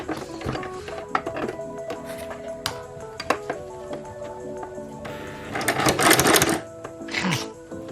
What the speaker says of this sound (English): Pieces have been cut, by the way, but I'm going to sew the tabs first.